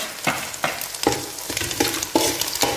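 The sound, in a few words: tomato and masala (chili powder, garam masala) frying in pan for egg veg noodles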